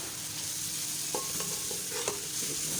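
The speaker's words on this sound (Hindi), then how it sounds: "इसको चम्मच को हिलाना है, भूनना है इसको" Masala being stirred and fried with a spoon in a pan for aloo methi sabzi, a continuous sizzle broken by several sharp spoon scrapes and taps against the pan.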